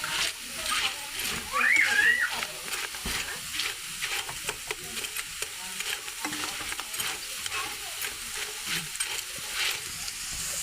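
Grated taro (kochu) fritters sizzle and crackle steadily in a pan of oil, with stirring clatter, and a voice talks faintly underneath.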